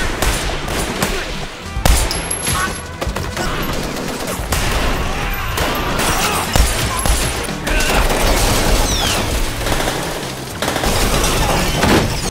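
Dense action-film gunfire: continuous rapid bursts of automatic weapons and scattered single shots, loud and layered with booms and cinematic sound effects, with no talking.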